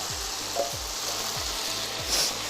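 Sauce poured into a hot pan of sizzling kung pao chicken, a steady loud fry and hiss with soft regular thumps of stirring beneath, close up and without voices.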